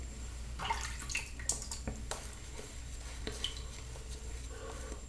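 Wet, quiet squelching and dripping as a little more water is worked into a creamy, fatty Dapper Dragon Tiamat shaving soap lather, with soft intermittent squishes and drips close up and no talking.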